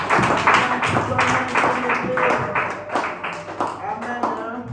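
A church congregation applauds with dense clapping and tapping, loud and close, mixed with speech throughout.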